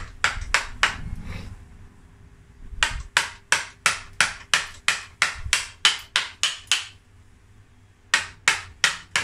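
Gouge struck with a mallet while carving elm wood for a rustic bonsai cutting, sharp evenly spaced knocks in quick runs with short pauses, close and loud.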